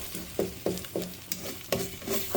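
Egg mixed with masala, salt, chilli, mint and coriander is stirred in a pan, with regular scraping strokes about every third of a second over a faint sizzle.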